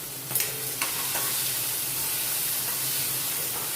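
A large chopped tomato drops into a hot pan of peas for Gujarati rasavala bhat, with a couple of soft thuds at the start before a steady, close sizzle and hiss of frying.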